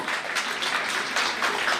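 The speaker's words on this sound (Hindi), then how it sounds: "एक बार जोरदार तालियां everyone" Audience applause at an Indian Air Force day event, a dense, steady wash of many hands clapping that carries evenly through the short stretch with no voices on top.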